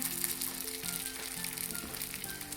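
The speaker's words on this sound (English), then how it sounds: "We're going to add it into our pan that has some heated oil in it." Salmon patties sizzle and fry in heated oil in a pan, giving a steady, faint crackling hiss with no talking.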